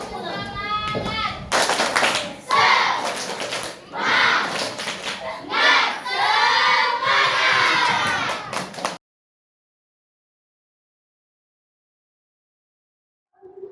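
Schoolchildren in a classroom clap their hands together at the end of a lesson, a loud burst of group clapping mixed with children's shouts and cheering, followed by silence.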